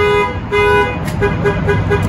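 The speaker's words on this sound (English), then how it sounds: "and the alarm sounds, okay?" A Nissan NV2500 van alarm blares in repeating short electronic tones, loud and close, pulsing steadily for the whole stretch.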